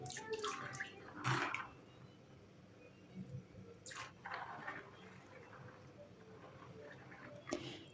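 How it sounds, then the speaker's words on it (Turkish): Soaked beans being drained and rinsed under plentiful running water, a soft steady wash of flowing water with a few louder splashy bursts near the start and end, no talking. "Fasulyelerimizin suyunu süzdürelim ve 4-5 defa bolca suyun altında yıkayalım."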